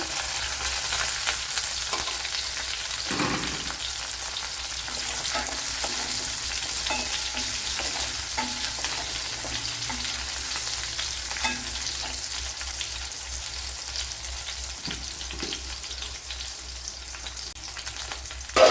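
Garlic, ginger and green chilli fry in hot oil with a constant crackling sizzle that stays steady and close, broken by a few soft stirring scrapes, and no voices are heard.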